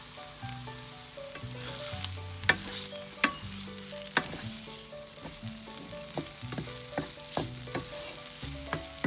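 Glass noodles stir-fried in a pan, with cooked egg already in it: a close, steady sizzle punctuated by sharp clacks and scrapes of a utensil against the metal, with no talking.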